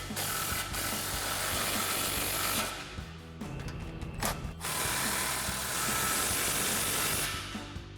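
An impact wrench with a 15mm socket tightens exhaust clamps on a RAM 1500 pickup's MBRP dual exhaust, giving loud rapid hammering bursts close by, with a short pause and a brief blip between the runs.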